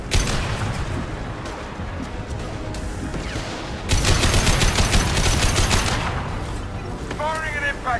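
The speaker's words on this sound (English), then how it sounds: "Firing an impact shot." Mass Effect Legendary Edition gameplay with an impact shot fired: a loud burst of blasts and crackling gunfire swells around the middle, over continuous game noise and voices.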